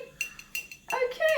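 A utensil stirs water in a metal pot over a gas flame, giving a few light clinks and scrapes against the pot, brief and close, with a louder scraping stretch at the end.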